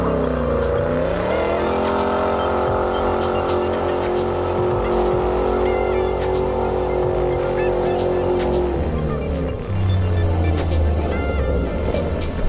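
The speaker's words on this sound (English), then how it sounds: "Let's do a burnout." A 2012 Shelby GT500 roars through a burnout, its engine holding a loud, steady high rev while the tires squeal, then dropping back to a rumbling idle near the end.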